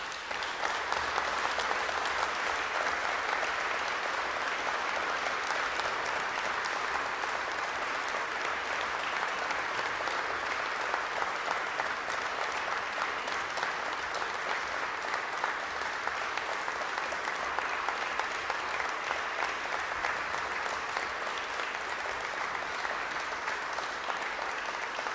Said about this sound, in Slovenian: Ta aplavz je povedal vse.